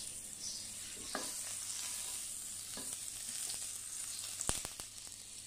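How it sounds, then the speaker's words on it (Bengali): Chicken fries in butter in a pan, producing a soft, continuous sizzle with a few sharp clicks and taps of utensils near the end, no voices. "এটার মধ্যে আমি এখন বাটার দিয়ে দিচ্ছি চিকেনটা ভেজে নেওয়ার জন্য"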